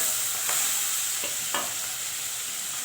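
Fenugreek leaves (methi) roast with salt and spices in a pan over low heat, giving a steady close hiss of sizzling broken by a few soft spatula scrapes, with no talking.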